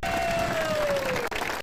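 Sustained audience applause with crowd noise at a cricket tournament closing ceremony in Saudi Arabia, steady and full for under two seconds, with a thin whistle-like tone sliding across it.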